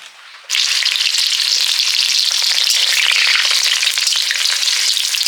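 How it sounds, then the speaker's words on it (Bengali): Thin papad lentil wafers hit hot oil with a sudden burst, then a dense, loud, close sizzle that holds steady, with no voices. "পাঁপড়গুলো বেশ পাতলা হয়, একটু সাবধানে ভাজতে হয় ঠিকই"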